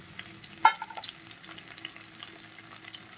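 Mixed vegetables frying in a pan for a prawn curry, a faint steady sizzle with one sharp clink of a utensil early on and a few soft stirring scrapes.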